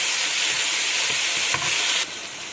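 Tomatoes stirred and fried in a pan for dal tadka give a loud, steady hiss with a few scraping clicks of a spoon, then the sizzle drops slightly near the end.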